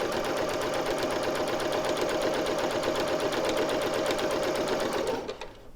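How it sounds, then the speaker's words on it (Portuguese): A sewing machine runs a straight seam while making a quilted fabric placemat, a loud, continuous whirring stitch rhythm that holds steady for over five seconds and then cuts off abruptly. "Venho na máquina e passo uma costurinha reta aqui."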